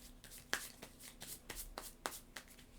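A deck of cards shuffled by hand for the Imperium Classics board game, a run of soft riffles and sharp slaps at an uneven pace, close and quiet, with no talking.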